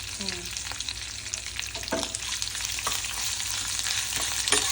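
Crushed ginger and mustard seeds sizzle and fry in a hot pan for a mango semiya pulihora, a steady crackling hiss with a few sharper pops and occasional spoon stirs, close and fairly loud with no voices.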